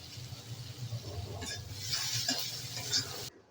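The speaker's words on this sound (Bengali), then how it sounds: "আর আগে থেকে কুচিয়ে রেখেছিলাম কাঁচা পেঁয়াজ দিয়ে দিলাম তেলের মধ্যে" Chopped raw onions go into a small amount of hot oil and sizzle with a steady, close frying hiss, along with a few stirring scrapes. It stops abruptly at the end and no one talks.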